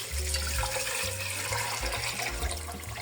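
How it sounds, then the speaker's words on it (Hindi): Water pours steadily into a cooking pot of meat and lentils for Lahori harissa, a continuous close splashing and gurgling fill with no talk. "अब इसमें हम डालूंगी पानी।"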